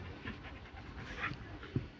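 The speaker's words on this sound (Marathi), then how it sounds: "रघु नाव आहे त्याचं आणि हा कुत्रा पळायचा आहे पंजाबवरून आणला साठ हजाराचा आहे" A dog brought from Punjab pants quietly in a rapid, steady rhythm of soft breaths close by, with a faint whimper-like catch near the end and no talking over it.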